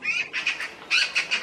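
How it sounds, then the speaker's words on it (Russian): Magpies scuffle in a zoo, giving harsh squawks in quick bursts over wingbeats, two clusters of calls close together and fairly faint. "Сороки дерутся."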